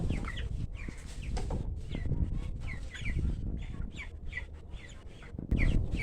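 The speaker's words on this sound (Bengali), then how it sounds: "পঞ্চাশটা মুরগি আছে" A flock of about fifty 21-day-old poultry chickens clucks and murmurs continuously, with overlapping calls close by over a rustling farmyard background.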